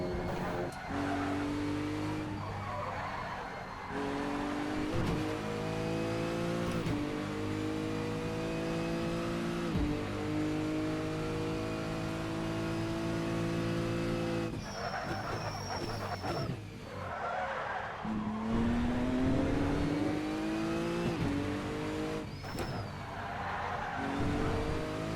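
Race car engine in a racing video game, loud revving climbing and dropping through gear changes, with tire squeal and skidding at several points across a continuous lap.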